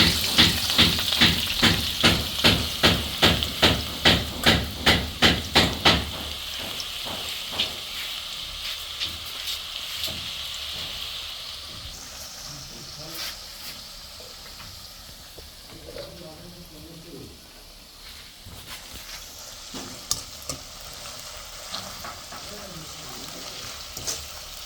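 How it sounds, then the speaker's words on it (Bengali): Food deep-fries in hot oil, opening with a rapid train of loud, regular clicks before settling into a softer, steady bubbling sizzle with occasional pops and faint background noise. "তো এখন এই যে ডুবন্ত তেলে এভাবে ছেড়ে দেবো।"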